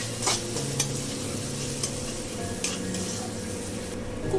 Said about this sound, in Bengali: এবার সব দিয়ে এটা এখন ভালো করে কষাবো